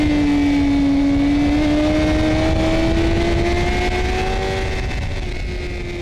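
Super middleweight sportbikes, including a Ducati, lapping a racetrack on a track day: a loud, sustained engine note that rises steadily in pitch as a bike accelerates, with a steady rush of wind and road noise and no talk.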